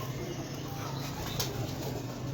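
Pigeons on a rooftop cooing softly over a constant outdoor hiss, with a brief flutter of wings partway through; no talking.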